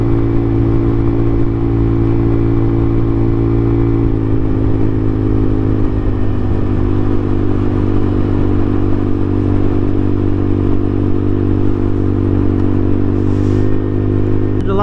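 A scooter motor drones steadily and close throughout a ride on a rural road, its hum holding a constant pitch with slight shifts and a light rattle, with no talking.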